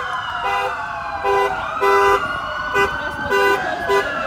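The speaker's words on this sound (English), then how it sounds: "My mom is enjoying honking that horn." A car horn honking repeatedly during a high school senior parade, loud close toots in an irregular series of short and longer blasts over steady traffic noise.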